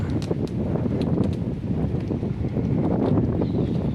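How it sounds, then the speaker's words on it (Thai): Gusty wind buffets the microphone on a floating bridge over the water at Pak Nam Rayong at midday, a rough continuous rumble that swells and eases, with faint rustling and no talk. "เพราะว่ามันมีลมนะครับ"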